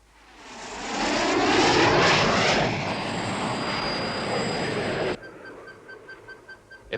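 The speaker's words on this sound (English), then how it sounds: "A plane of some kind." A fixed-wing plane passes overhead in a mountain valley, its engine roar swelling in over the first second, holding loud and steady, then cutting off sharply to a quieter hum with faint chirps.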